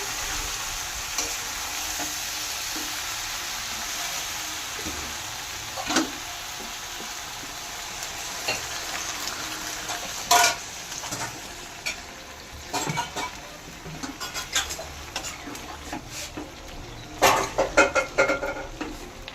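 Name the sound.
water added to sautéed jackfruit in a pan, stirring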